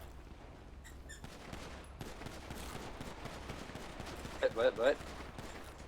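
Gunfire in a GTA V roleplay shootout, faint bursts of shots crackling in the distance under low background noise, with a short spoken word and louder close bursts near the end.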